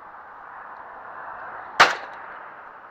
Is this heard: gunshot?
yes